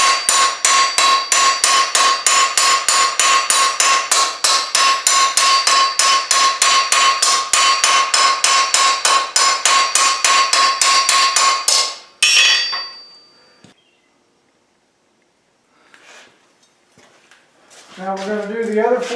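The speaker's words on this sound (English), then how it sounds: "Then I take the ball peen itself and work around the edges." A ball peen hammer strikes hot steel in rapid, even blows while forging key rack hooks, ringing loud and close for several seconds before stopping, followed by a few faint clanks and shuffling.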